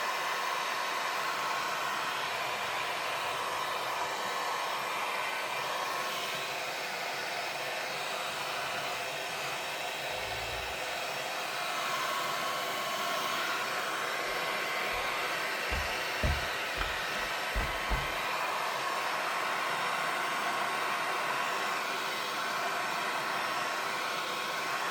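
A hair dryer blows steadily and loudly for the whole stretch, drying Ecoline watercolour paint on paper, with a constant airy whoosh and a few faint low bumps partway through.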